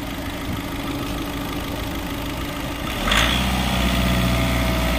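A vehicle engine idles with a rough mid-range rumble, then at about three seconds the revs jump sharply and it settles into a louder, deeper drone; close and steady, with no speech.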